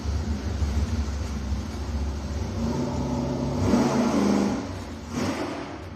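A dual-quad V8 on a dyno, fitted with lightweight components and a tunnel ram or cross ram intake, revs up steadily under load in a rising roar, peaks, then drops and briefly swells again.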